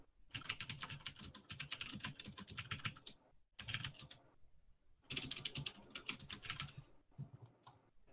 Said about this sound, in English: This is what MX Cherry Blues sound like.